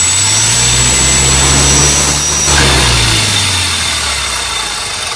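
A tiny motor spins the mock weapon of the Scrambles combat robot, a steady loud whine and drone close to the mic that dips briefly midway, then holds on alone.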